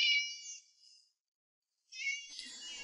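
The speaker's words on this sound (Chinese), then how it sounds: "小猫咪" A kitten gives two high, thin meows separated by a short silence, close and fairly quiet, the second drawn out and trailing into a faint rustle.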